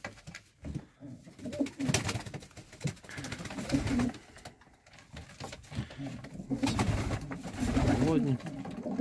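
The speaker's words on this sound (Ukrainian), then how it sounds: "Так що, йдемо ще покажу вам решту голубів." Pigeons coo repeatedly at close range in a loft where pairs are being matched, soft throaty rolling calls recurring throughout alongside someone speaking and light rustling.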